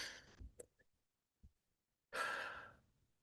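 Breathwork session with a small group: a long audible exhale at the start, a couple of soft breath sounds in the quiet middle, then a loud, sustained deep sigh-like out-breath near the end, all close and without talk.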